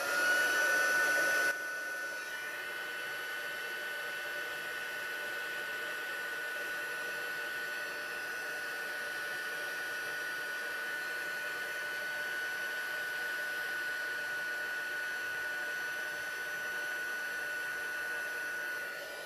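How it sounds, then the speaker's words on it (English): A heat tool blows with a steady, loud whooshing drone to set embossing on a birthday card sentiment. It starts with a brief louder surge, then holds an even roar close by for nearly twenty seconds. "I'm going to bring in my heat tool and quickly set the sentiment"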